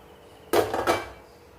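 A cooked jaggery and wheat-flour puda is set down on a plate, making a single brief clatter with a quick second knock, close and clear in an otherwise quiet kitchen.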